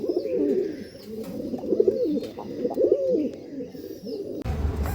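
Top-quality pigeons from Andhra Pradesh cooing close by, a series of low, rolling coos repeating over a few seconds, ending with a soft thump.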